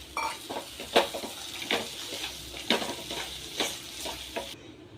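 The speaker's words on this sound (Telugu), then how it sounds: "ఇప్పుడు మనం డ్రై ఫ్రూట్స్ని కూడా చక్కగా మిక్స్ చేసేసుకుందాం" A spoon scrapes and stirs dry fruits through milk kheer in a pot, with regular scraping strokes over a soft background hiss.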